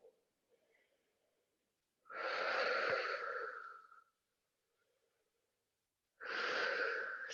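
Deep breaths taken during a standing yoga pose, two long, loud breathy exhales separated by a quiet pause, close to the microphone.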